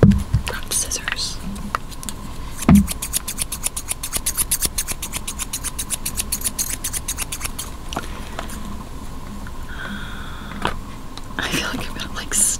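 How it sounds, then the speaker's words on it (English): Scissors cutting through Apple product packaging in a close, quiet unboxing, a fast rhythmic run of small snipping clicks followed by scattered rustles and soft whispering. "Scissors."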